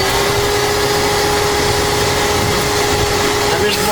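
A Samsung washing machine with a fault that stops it spinning or draining runs with a steady, loud mechanical hum and whirring drone, constant and unbroken throughout.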